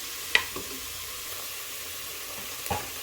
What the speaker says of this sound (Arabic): غادي نتسناو على البصله ديالنا والبوارو يطيحوا